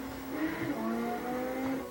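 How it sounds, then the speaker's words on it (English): Cars drag race in a video game, including a 458 Italia and a Countach, with a sustained engine tone that rises and shifts pitch, loud and steady for nearly two seconds, with no talk. "We're gonna outdrag a couple cars"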